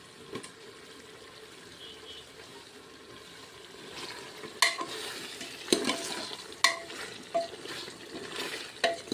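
Brinjals and potatoes sizzle in a pressure cooker while a spoon scrapes and stirs, with several sharp clanks of metal growing louder toward the end; no talking.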